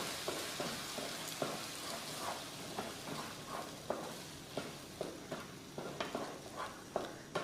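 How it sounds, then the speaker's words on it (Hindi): Food roasts in a pan over a medium gas flame, giving a soft, steady sizzle with regular scraping stirs of a spoon, faint and close, with no talk. "अब हम गैस के फ्लेम को मीडियम रखेंगे और मीडियम फ्लेम पे इसको हम 10 से 15 सेकंड अच्छे से भून लेंगे"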